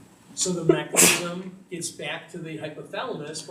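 A single sharp sneeze bursts out mid-lecture, loud and close, between stretches of someone talking about diabetes physiology in a classroom.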